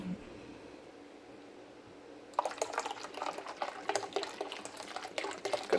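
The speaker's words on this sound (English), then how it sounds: "I'm going to add some of my Guinness." Guinness stout is poured from a can into a Jamaican-style pumpkin punch, a close, splashing, gurgling stream that begins suddenly after a quiet stretch and continues unevenly to the end.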